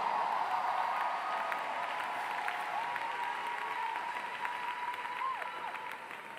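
A church congregation applauding during a service, sustained dense clapping heard from a distance that slowly fades over several seconds, with a faint voice beneath.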